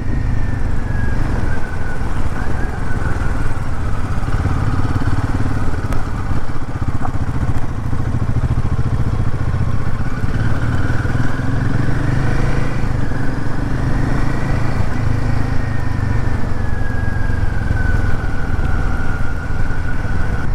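A Royal Enfield Himalayan motorcycle engine runs steadily and loud, a continuous low thumping drone with a faint rising whine over it, no talk.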